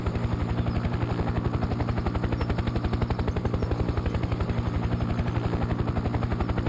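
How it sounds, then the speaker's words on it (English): A helicopter in Farming Simulator 17 flies over a Texas farm map, its rotor beating in a fast, steady rhythm under a continuous engine drone, close and constant throughout. "since I've got the helicopter, I thought I'd just fly around"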